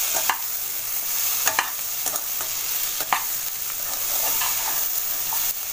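Hot water poured into a pan of spiced chickpea curry, setting off a steady hiss and sizzle, with a few sharp stirring knocks against the pan.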